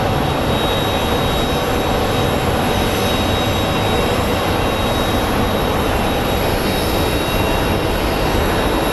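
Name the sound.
American Airlines Boeing 777 lining up for departure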